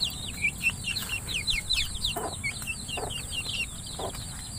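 Capon chickens clucking and calling in a farmyard after typhoon damage, a steady run of near, overlapping clucks and chirps over a constant low rumble, with no talking.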